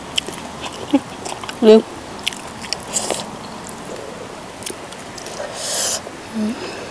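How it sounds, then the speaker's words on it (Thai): Crispy Thai pork rinds (khaep mu) bitten and crunched at close range during a Isan-style eating session, with a few short crackly bursts spaced apart under an ongoing speaking voice. "เราแคบหมูบ่เราแคบหมูกันแป๊บนึงเด้อคำนี้ไปเอาแคบหมูก่อน"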